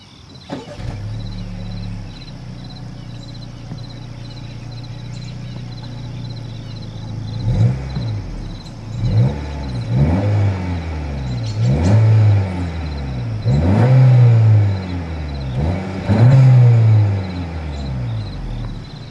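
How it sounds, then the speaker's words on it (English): A turbocharged Honda Civic engine idles steadily through its exhaust, then is revved in a series of repeated rising-and-falling bursts, loud and close with no talking. "As always, here is that exhaust clip."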